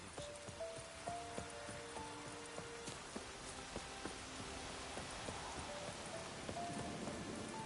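Horses clip-clop in The Witcher 3, a steady run of hoof beats under a constant rain-like wash of ambient noise, with faint musical tones in the background and no voices.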